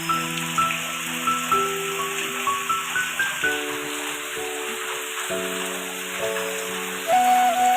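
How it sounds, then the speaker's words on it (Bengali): Heavy rain pours steadily during the 2024 Kerala flood, a dense continuous hiss close by, with faint tonal hum and no talk over it. "দেখো কীভাবে বৃষ্টি পড়ছে।"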